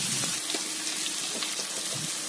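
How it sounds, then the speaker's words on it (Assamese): Boiled beans and potatoes stir-fried in a pan give a steady close sizzle with soft scraping clicks from stirring, continuous and fairly loud with no voices. "বইল কৰা গুটিকেইটা আৰু আলুখিনি দি দিছোঁ, দি ধুনীয়াকৈ লৰাই দিম"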